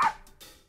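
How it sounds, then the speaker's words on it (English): A small dog gives a short bark followed by a faint second yelp, fairly quiet and nearby, with no talking. "Our pet dogs may start barking at us."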